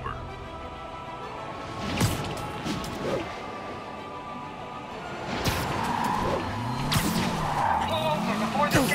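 Car chase through New York streets in Marvel's Spider-Man, with tires skidding and squealing, engines swooping past, and sharp impacts over a busy background where voices speak.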